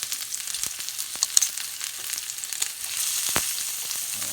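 Steak sears in a hot pan with a couple pieces of garlic, a steady close sizzle with small pops and crackles throughout and no voices.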